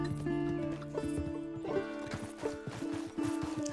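Horse in the video game Red Dead Redemption 2, hoof clip-clops in an uneven walking rhythm over a steady droning tone, close and fairly quiet, with a short whinny partway through.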